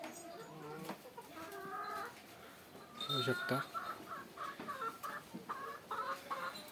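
Native desi chickens cluck and call in a goat and poultry shed, repeated short clucks at moderate distance mixed with other bird sounds, while someone talks over them.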